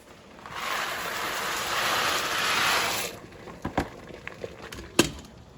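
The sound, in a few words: elbow macaroni added to pot of boiling water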